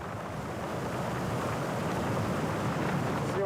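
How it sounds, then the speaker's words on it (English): Strong wind buffeting at a cliff edge in snowy Kazakhstan, a loud, continuous roaring rush that holds steady throughout, with no voices. "However, the wind suddenly picks up."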